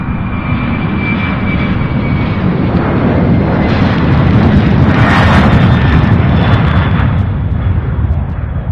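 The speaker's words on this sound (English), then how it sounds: "We have another MD-11 right in there." A UPS MD-11 jet roars loudly and steadily with deep rumbling engine noise at Louisville International Airport, swelling slightly mid-way, alone without talk.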